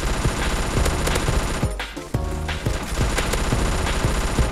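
A Vector gun fires in the Banana Shooter video game in rapid, dense bursts of loud automatic shots, briefly pausing near the middle before the close, sustained fire resumes.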